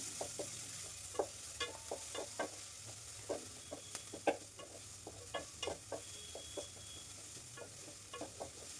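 Dried red chillies sauté in tempering oil while lady finger curry is being made. Quiet, repeated scraping stir strokes sound in an irregular rhythm over a faint, steady sizzle.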